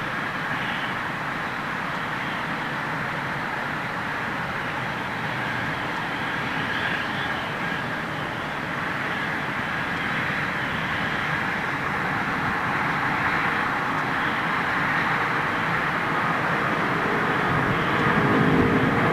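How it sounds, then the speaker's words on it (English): A Singapore Airlines Airbus A380 airliner at Heathrow gives off a long, steady jet roar that swells slightly toward the end, heard at some distance for nearly twenty seconds with no voices. "Singapore Airlines, the Singapore Slinger, for all you A380 fans."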